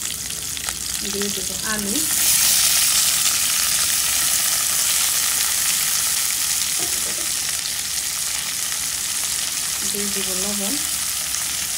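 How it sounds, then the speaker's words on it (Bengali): Kachki fish with potatoes, green chilies and salt fry in a pan with a constant loud sizzle and some stirring. A voice speaks briefly near the start and again near the end. "হালকা ভেজে নেব।"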